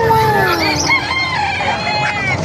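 A rooster crows loudly nearby at a gamefowl market in Calumpit, Bulacan, one long drawn-out call, while other chickens cluck and crow in the background.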